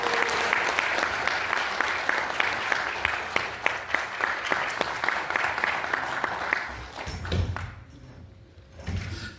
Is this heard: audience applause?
yes